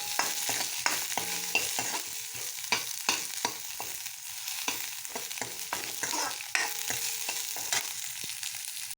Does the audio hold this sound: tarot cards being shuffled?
no